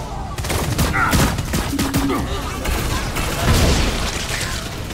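Explosions and gunfire from the Hammerhead weapon in the online shooter Lawbreakers, a dense, loud barrage of booms and rapid shots filling the whole stretch, with a brief voice in the mix.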